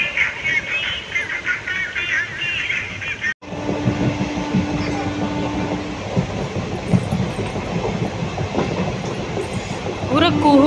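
A train rolls steadily along the rails with a continuous rumble and rhythmic clickety-clack of the wheels, heard from inside a carriage. A brief dropout breaks the sound partway through, and voices murmur beneath the running noise.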